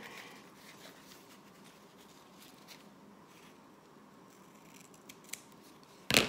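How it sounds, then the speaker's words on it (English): Scissors snip through wallet material once, a sharp, close cut that ends the clip after several seconds of quiet rustling and light handling noise. "So all I'm gonna do is just cut that off."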